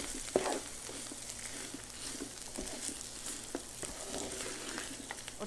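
Meat pickle with whole chillies frying and being stirred in a pan, a steady sizzle with scattered clicks and scrapes of the spoon, close and continuous with no talking.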